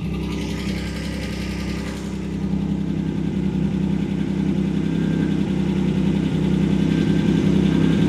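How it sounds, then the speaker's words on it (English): A Ford Granada Mk2 2.8 engine, abandoned for years, idles steadily with a low rumbling drone and slight vibration, growing a little louder after a couple of seconds, close by and with no talking. "Hopefully she's going to idle now, just so we can check her over."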